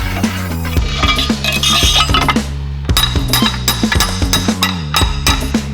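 A chisel being hammered into the collar on an axle shaft gives a rapid series of sharp, ringing metallic strikes up close, each hit chiming with a bright metal tone, in an uneven, repeated rhythm with no talking.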